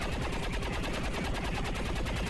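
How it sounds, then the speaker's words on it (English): The Shred Storm Cannon in XCOM 2 fires a continuous, fast, evenly pulsing burst, loud and dense, with no voices over it. "We'll have to use the Shred Storm Cannon."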